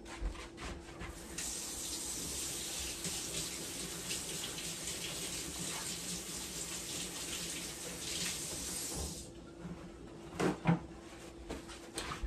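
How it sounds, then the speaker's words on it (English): Tap water runs steadily into a sink as hands are washed, a continuous close hiss for several seconds before the flow stops, followed by a few soft knocks. "I just washed my hands, but I'ma rewash them."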